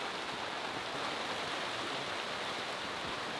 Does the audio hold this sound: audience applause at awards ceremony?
no